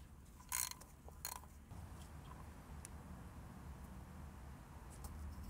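A ratchet loosening 10 mm bolts on the oil pan cover of a Honda Ridgeline, quiet, with two short bursts of rapid clicking early on and then faint mechanical handling.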